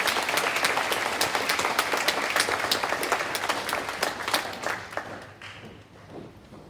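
Steady applause from a crowd at a primary school presentation day, with dense clapping that carries on throughout before gradually thinning and fading near the end.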